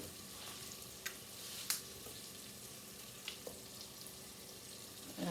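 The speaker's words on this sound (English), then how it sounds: "Stir in the garlic and cook for a couple of minutes." Garlic cooks in melted butter in a pan, with a steady soft sizzle and a few light clicks and scrapes from stirring, close and fairly quiet, with no voices.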